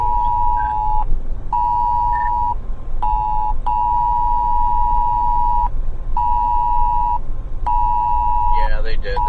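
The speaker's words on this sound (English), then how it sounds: "they must have just issued a new warning because I just got a prompt on my phone" A phone blares a loud emergency tornado warning alert, repeating steady high tone bursts with brief gaps, over a rumbling background and a voice talking underneath.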